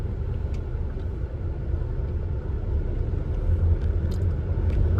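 Traffic crawling across a bridge packed with vehicles, a continuous low rumble of engines and tyres that swells slightly toward the end, moderately loud.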